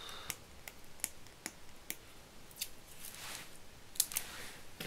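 Quiet, irregular crackles and sharp ticks as tape is pulled and pressed, with soft rustling in between and no talking.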